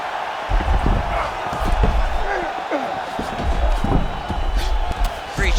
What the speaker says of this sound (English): big pop from the crowd there as he beautifully executes that sweep